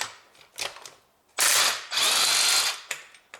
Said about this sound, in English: I use now my impact driver, and let's open that bolt